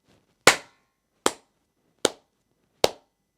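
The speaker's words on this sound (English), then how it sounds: "with the second one, the first clap was very loud, and then the subsequent ones were very soft." Four hand claps in a steady beat, the first clearly louder and accented, the following three softer, each crisp and close with silence between them.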